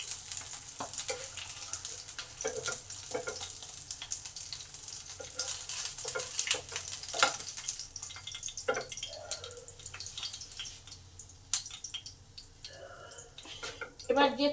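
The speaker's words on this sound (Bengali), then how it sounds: "এই মাছগুলো এবার ভাজা হয়ে গেছে, এগুলো এবারে তুলে নিই।" Pabda fish fry in hot oil in a pan, a steady bright sizzle with scattered crackles and pops running throughout, alongside a person talking.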